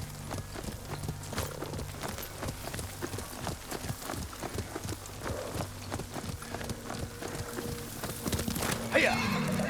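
Steady clip-clop of a horse's hooves while riding across open ground in Ghost of Tsushima, close and rhythmic beneath a low music bed, with a brief brighter burst near the end.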